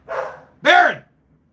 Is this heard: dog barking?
yes